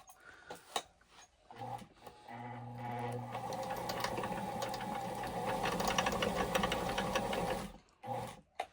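A Fashion Mate 257 sewing machine winds its bobbin in a steady mechanical whir that runs for several seconds after a few brief clicks, then stops abruptly, close and fairly quiet.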